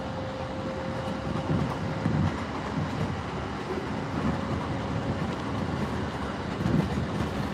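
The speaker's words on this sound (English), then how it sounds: "This here is the Kawagoe line, though, so this is going to be running over to Kawagoe." A Kawagoe line train in Japan running steadily, with a continuous rumbling roar, faint rhythmic rail clatter and a thin steady whine, heard close and even throughout without speech.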